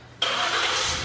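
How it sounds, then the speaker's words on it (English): A 2016 Ford Explorer Limited starts by remote start, its engine catching abruptly and settling into a steady, fairly close idle with no voices. "which includes remote start"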